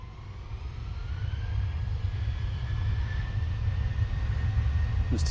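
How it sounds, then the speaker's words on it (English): A Ryanair jet departing for Cork from Manchester Airport roars steadily at a distance, a broad sustained engine rumble with a faint rising whine, no voices over it. "we have this Ryanair off to Cork"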